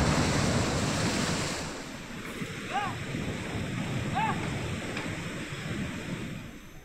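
Rough sea surf pounds a Kerala coastline hit by sea erosion, a continuous heavy wash of breaking waves with wind, with a few faint chirps heard over it.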